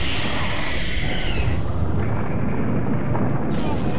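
Loud, dense video game explosions from falling eggs in The Ball, a continuous roaring burst that fills the whole stretch and drowns everything else.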